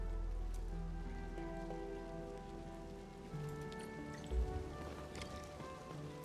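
Steady rain in a video game patters and hisses evenly throughout, with a low rumble underneath and a brief soft thump partway through.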